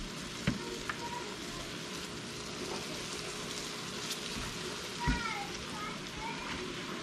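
Gluten-free chicken pieces fry in a crowded home skillet, giving a steady, faint hiss and crackle throughout, with a couple of soft knocks as a voice talks over it.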